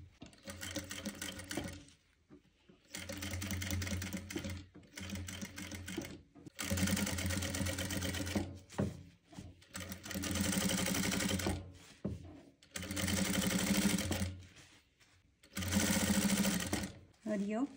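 A sewing machine stitches a velvet long kurti blouse for a lehenga, running in several close bursts of steady whirring separated by brief pauses.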